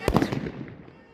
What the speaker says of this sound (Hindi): पटाखों की आवाज कानों में गूंज रही है दर्शकों के।